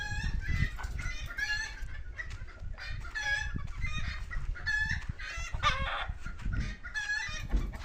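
Several chickens cluck and chatter together in a busy, continuous flock, with soft rustling and low background noise underneath.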